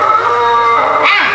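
A dog gives a drawn-out howl or whine, loud and close, rising and bending in pitch across a short stretch with no talk over it.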